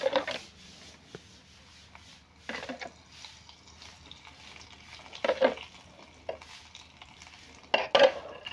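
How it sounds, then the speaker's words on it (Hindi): Oil is added to a pan for frying as a stirring sound starts, with short bursts of sizzle and scraping at irregular intervals. The sound is close and moderately loud, with no talking. "अभी फ्राई स्टार्ट करेंगे। पहले तेल को दे देता हूँ।"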